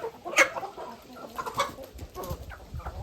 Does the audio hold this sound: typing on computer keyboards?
no